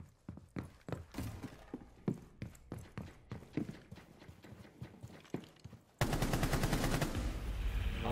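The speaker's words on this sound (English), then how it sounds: "I just shot my pistol" Pistol fire in a video game: roughly a dozen sharp, close cracks in an uneven rapid rhythm, some overlapping, followed by a sudden loud, sustained wall of dense noise for the final two seconds.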